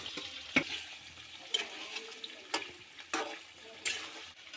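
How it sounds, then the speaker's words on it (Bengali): Fried chicken pieces going into a sizzling spice masala in a pan, with a soft steady sizzle broken by several sharp stirring clatters, close by and without talk. "এবার আমি ভেজে রাখা চিকেনগুলো এক এক করে এখানে দিয়ে দেব।"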